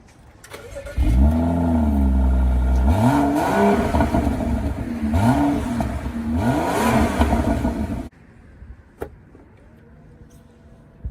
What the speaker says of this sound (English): the first thing we're going to talk about is the exhaust note